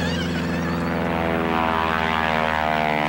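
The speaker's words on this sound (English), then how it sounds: "experimental aircraft of all shapes and sizes, from antiques to the sleekest fiberglass models" Propeller-driven experimental aircraft at the Oshkosh, Wisconsin air show, a loud, close piston engine drone with dense harmonic buzz and pulsing propeller beat, steady throughout with no talk.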